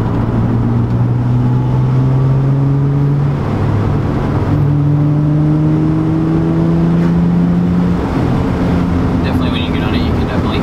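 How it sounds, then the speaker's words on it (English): A Nissan 350Z accelerating hard, its engine note climbing in steady rising pulls with intake noise, loud and continuous from close by, with the pitch dropping briefly between gear changes. "when you get on it, you can definitely hear that the air intake trying to suck air."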